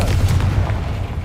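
The Confringo fire spell in Hogwarts Legacy gives a deep booming blast that rolls out over about a second, a single heavy burst with no speech over it.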